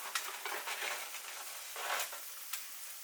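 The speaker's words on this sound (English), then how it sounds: "As your salmon is searing off" Quiet, crackling sizzle of salmon searing in a hot pan, with bursts of spattering that rise and fall, no voices.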